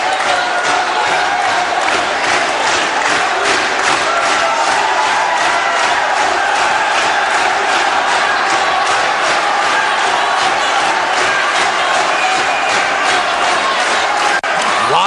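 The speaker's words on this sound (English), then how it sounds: "the crowd here, there's so much passion and energy for this fighter" A dense, roaring crowd cheers passionately for a fighter at a mixed martial arts open championship bout, the loud, sustained roar running unbroken from start to finish.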